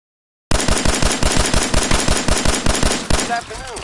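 Gunfire in the video game Fallout 4, a rapid automatic burst of about fourteen loud, evenly spaced shots that starts abruptly after a short silence and ends with a fading ring.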